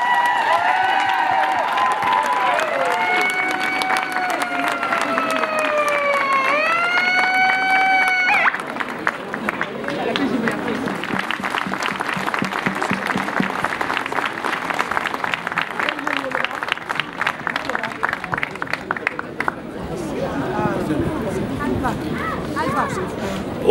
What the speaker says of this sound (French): Applaudissez-vous encore une fois.